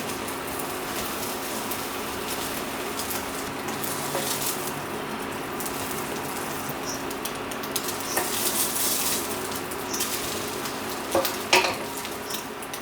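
Egg and bread frying in a wide pan, a soft continuous sizzle with occasional faint clinks and scrapes, steady and fairly quiet throughout.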